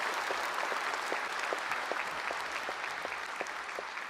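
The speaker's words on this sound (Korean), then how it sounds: "경축 공연 해주신 여러분께 뜨거운 박수 부탁드립니다." Audience at a Korean Liberation Day ceremony applauds steadily after a celebration performance, a sustained wash of clapping from a large crowd, moderately distant.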